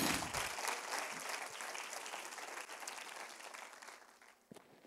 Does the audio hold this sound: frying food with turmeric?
no